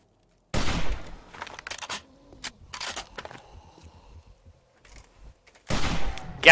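Gunfire in the 7 Days To Die survival video game, with a loud burst of shots at the start, scattered quieter reports and clatter through the middle, then another sharp close volley at the end.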